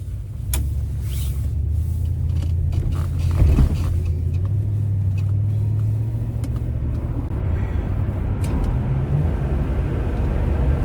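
A 1975 Pontiac Grand Prix accelerates with its carburetor secondaries opening: a loud, steady low engine roar that swells briefly and keeps droning, recorded from inside the car, with no talking.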